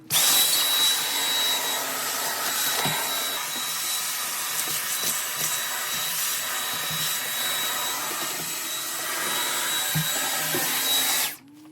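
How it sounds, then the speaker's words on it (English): Vacuum cleaner running continuously during household cleanup, a loud steady whine and rush with occasional bumps and scrapes of the nozzle, cutting off abruptly at the end; no talking. "So now I'm gonna vacuum up what I can, finish off cleaning whatever this is."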